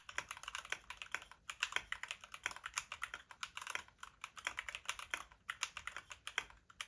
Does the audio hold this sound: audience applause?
no